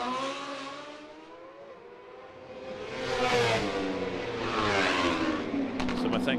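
Racing motorcycles lapping the Macau Grand Prix street circuit, mostly M1000 superbikes, their engines droning at high revs and swelling loudly as the bikes pass, with a commentator speaking over them.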